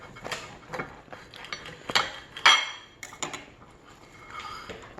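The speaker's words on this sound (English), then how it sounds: "I'm going to cut this open just so you can see all the deliciousness that we have here" A knife saws through a burrito filled with bacon, cheese and hash brown, making a series of scattered clicks, scrapes and taps against the plate, close by and uneven in rhythm.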